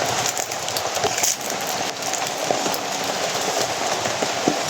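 Rain pours onto an outdoor camera in a steady, dense patter with occasional sharper drop hits close to the lens. No voices are heard.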